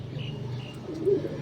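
Pigeons perched by their drinking water coo softly, with one low coo standing out near the end above a quiet background hum.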